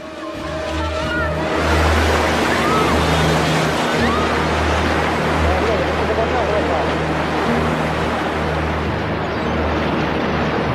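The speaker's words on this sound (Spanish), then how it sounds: "Es una sucesión de olas que seguirán llegando durante muchas horas, incluso un día." Tsunami waves surge onto the Chilean coast, a heavy, continuous wash of churning water and surf with low rumbling beneath, loud throughout, while a narrator speaks over it.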